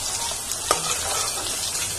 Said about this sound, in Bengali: এখানে পনিরগুলো প্রায় মোটামুটি ভাজা হয়ে যাচ্ছে